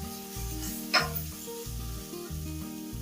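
Veg manchurian balls frying in a pan, a soft continuous sizzle with one sharp clink of a utensil, set against a looping musical backing.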